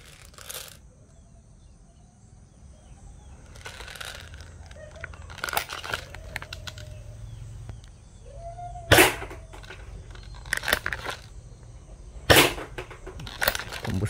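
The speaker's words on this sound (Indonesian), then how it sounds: "ini kita test shot dulu ya untuk unit test game 96 nya kita coba tembak ke kardus itu dulu" An upgraded M96 airsoft gun fires test shots at a cardboard box, several sharp snapping cracks spaced a few seconds apart over a quiet background with light handling noises.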